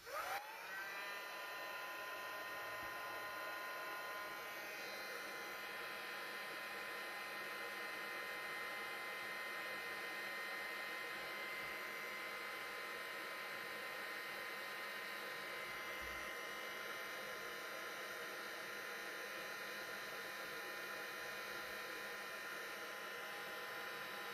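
Heat embossing tool on its low speed blowing over vellum, a faint, steady electric whir and airy hiss that continues unbroken throughout, with no voice.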